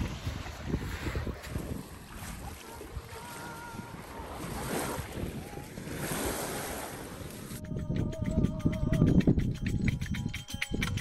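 Water laps and washes gently against a sandy beach beside a forest in Leamington, Canada, mixed with gusts of wind buffeting the microphone.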